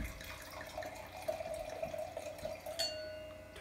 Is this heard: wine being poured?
yes